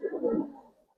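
Giribaz silver pigeon cooing in a short, close, moderately loud burst of low throaty coos that fade out, with a brief final coo at the end.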